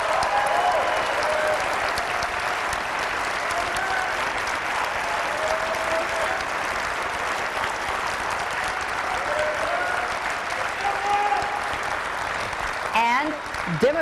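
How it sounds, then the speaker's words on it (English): Debate audience applauding as candidates are introduced at a Kentucky gubernatorial debate, steady dense clapping that runs throughout, with brief voices and a few whoops near the end. "Our audience agreed to hold their applause until the debate is over, except for now, as we introduce the candidates."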